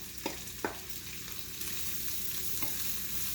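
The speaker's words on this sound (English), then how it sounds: "now we're going to take our onions and our celery. We just want to add that in there" Onions and celery dropped into hot bacon fat sizzle steadily, with a couple of quick stirring clatters near the start and another scrape later, fairly close and moderately quiet.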